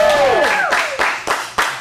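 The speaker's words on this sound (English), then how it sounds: "let's get a big round of applause" A live audience at an adult improv comedy showcase cheers with a rising whoop, followed by a few loud, uneven bursts of clapping close by.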